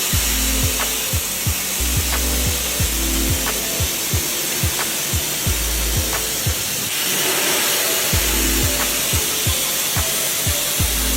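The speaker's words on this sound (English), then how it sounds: "This is a cutting machine, which helps in cutting potatoes into small pieces," A potato cutting machine rapidly slices potatoes into small pieces, giving a steady run of sharp, evenly spaced chopping clicks over a continuous mechanical hiss, close and fairly loud throughout with no talk.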